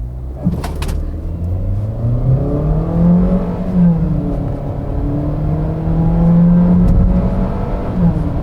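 A Suzuki S-Cross engine roars as it accelerates hard from standstill to 100 km/h, pitch climbing steadily, dipping at a gear change, then climbing again; loud and close, no talking.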